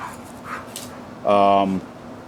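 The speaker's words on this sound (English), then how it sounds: "I do apologize for the dog noises in the back." A dog barks and yelps outdoors in the background, a few short calls followed by one louder, drawn-out bark, set against a quiet room.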